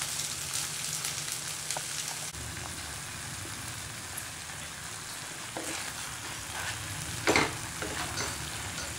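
Okra curry fries in a pan while being stirred, giving a steady close sizzle with occasional scraping and clinks of the utensil against the pan.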